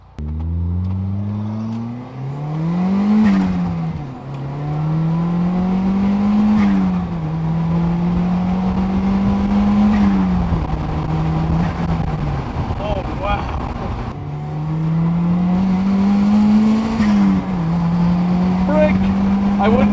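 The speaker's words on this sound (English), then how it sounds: "This is my first time driving the car full throttle" A boosted Toyota MR2 Spyder (MR-S) is driven at full throttle on a street, its engine note climbing and dropping through repeated gear pulls, loud and close from inside the car while occupants talk over it.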